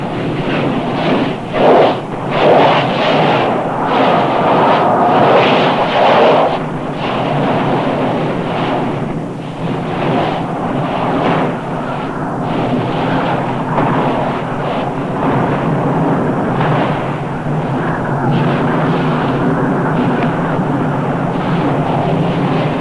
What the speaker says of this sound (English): Many times each day, without warning, the molten lava rises hundreds of feet and fills the fire pit.